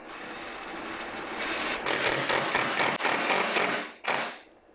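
Screw gun driving a screw into wood backing behind drywall for a hole patch: a steady whirring buzz that speeds up into rapid pulsing, then briefly stops and gives a final short burst, close and loud.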